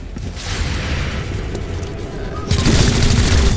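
Gunfire in the turn-based tactics game XCOM: Chimera Squad, a rapid burst of loud booming shots over a steady rumble that gets heavier and denser near the end.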